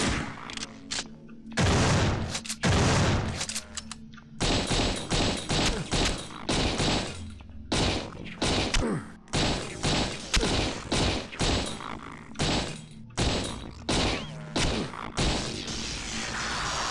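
A fusion cannon fires in the video game System Shock 2, giving a long run of loud, punchy blasts in quick irregular succession, some with ringing tails, heard close and with no talk.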